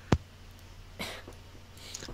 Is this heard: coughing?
yes